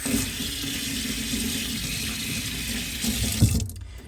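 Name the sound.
rinsing a paintbrush under a running tap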